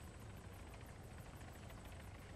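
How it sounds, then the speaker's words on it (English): A helicopter in the video game Arma 3 thumps with a steady, rapid rotor chop over a continuous engine drone, loud and constant throughout with no talk. "Dude, another chopper."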